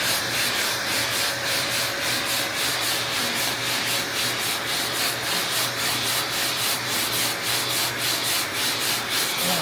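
Sanding block with 80-grit paper rubbed over a car body panel on a 1969 GTO under restoration, a steady, loud, rhythmic back-and-forth scraping that repeats evenly throughout, with no voices.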